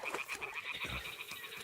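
Toads croaking in Kingdom Come: Deliverance II, a steady series of close, clear croaks repeating in a quick rhythm, with no voices over them.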